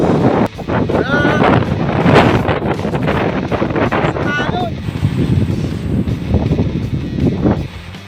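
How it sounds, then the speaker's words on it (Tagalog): Strong wind roars and buffets the microphone continuously at Hulagaan, with voices talking beneath the gusts and a rushing sound like water nearby. "Ang lakas ng hangin."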